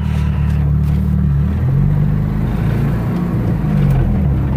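An old stripped-down car with no power steering or brakes drives forward, its engine humming loud and close with slight rises in pitch as it moves.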